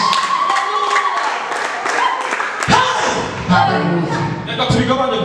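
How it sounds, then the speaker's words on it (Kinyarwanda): A church congregation claps in praise, a dense burst of applause with thumps under a preacher's raised voice, then a second wave of clapping. "Twahaye Imana amashyi menshi."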